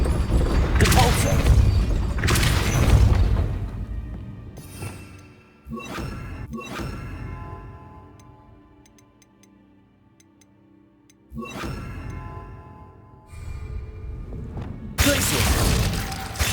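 Spell casting in Hogwarts Legacy gameplay, with several loud bursts of magical impact separated by quieter stretches, sharp thuds and crackling swells standing out clearly against a low background.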